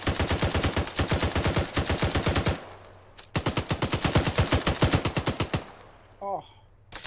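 Automatic machine-gun fire in the Arma 3 military shooter, played during a Blackrock airfield seizure with cavalry scouts. Two long, loud, rapid bursts are split by a short pause, with a faint voice near the end.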